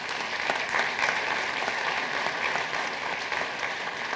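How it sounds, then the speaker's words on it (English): An audience applauds graduates at an annual community membership meeting, a steady roomful of clapping sustained evenly across the whole stretch without talk. "please give a round of applause to our 3 graduates"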